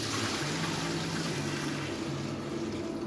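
Water pours steadily into a mixing bowl for bread dough, a continuous loud rushing splash with a faint rising fill tone, close and alone without talk.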